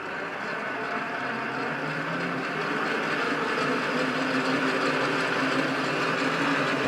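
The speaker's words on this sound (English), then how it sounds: "And we're going to turn the lathe on." A mini metal lathe runs with a wire brush scrubbing metal debris from a gear, a steady whirring, buzzing drone with a faint rough scratching texture, continuous and close.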